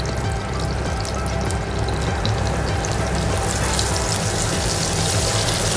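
Chopped garlic sautés in a mix of butter and oil, giving a dense, steady sizzle and crackle that stays loud and continuous throughout, with no voices.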